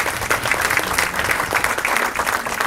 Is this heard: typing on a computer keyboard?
no